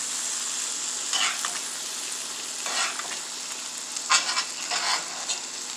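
Top sirloin steak cut from a roast, basted with butter in a hot pan with garlic and rosemary: a steady close sizzle broken by several louder splashy surges as the butter is spooned over.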